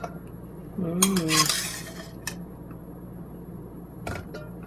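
Metal utensils clink and scrape against a big dish as cooked green leafy vegetables, seasoned with salt and soy sauce, are plated, with a busy cluster of clatter early and a couple of brief taps afterward.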